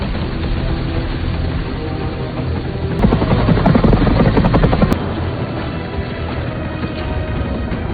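A helicopter in a film lifts ships laden with pirate gold, its rotor a loud, steady thudding drone that swells in the middle of the clip and then eases back.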